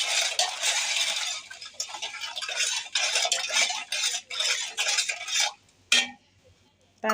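A spoon stirs Rooh Afza and water in a glass, producing rapid, close clinking and swirling against the glass for several seconds before a final tap and near silence.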